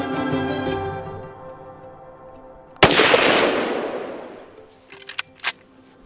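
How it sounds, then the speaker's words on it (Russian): A single sharp, loud rifle shot cracks out after a low rumble while hunting Himalayan ibex at high altitude in Pakistan, followed by a long fading echo and a few faint clicks. "Первый выстрел прогревочный."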